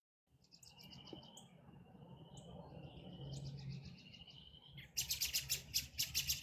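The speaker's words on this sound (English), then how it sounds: "it's me because I'm in Tennessee and all these mockingbirds are out right now looking for partners." Mockingbirds sing outdoors in Tennessee in spring, starting with faint, scattered chirps over a low background rumble and swelling into loud, rapid, close trills near the end.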